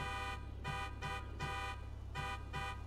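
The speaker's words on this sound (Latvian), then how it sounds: "Kam tu tur ir tauru?" A car horn in Grand Theft Auto 5 honks in a series of evenly spaced, rhythmic blasts over a steady engine drone.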